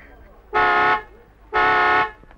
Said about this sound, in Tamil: ஹார்ன் அடிச்சு அவளை கூப்பிடுங்களேன் ப்ளீஸ்